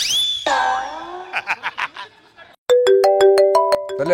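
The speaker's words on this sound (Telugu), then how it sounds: "ఫోన్ ఏదో వస్తుంది చూడు" A few springy, boing-like sounds are followed by a loud electronic phone ringtone playing a repeating melodic pattern of beeps.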